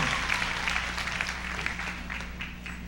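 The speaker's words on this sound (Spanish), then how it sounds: "dale un aplauso al Señor" A church congregation applauds during a worship service, a steady patter of many hands clapping at a moderate distance, fairly quiet and without speech.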